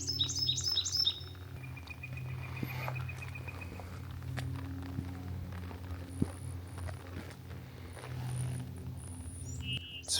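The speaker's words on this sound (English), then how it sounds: "There's birds chirping." Birds chirp and call in quick trilled bursts, most at the very start, over a low steady outdoor rumble, at the end of a spit near Seattle.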